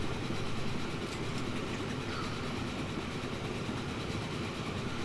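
A train in the Train Fever simulation rolls through a station without stopping, giving a steady, dense rumbling roar of wheels and cars with faint clickety-clack throughout.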